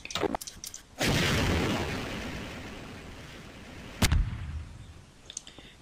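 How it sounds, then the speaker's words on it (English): An explosion in the video game Garry's Mod: a few quick clicks, then a sudden loud boom that rumbles and decays over several seconds, followed by a second sharp blast and a few faint pops. "Let's see an explosion."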